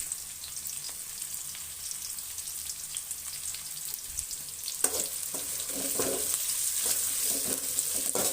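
Curry leaves, onions and green chillies fry in hot oil with a steady close hiss, and louder crackling spatters and faint stirring scrapes join in during the second half; nobody speaks.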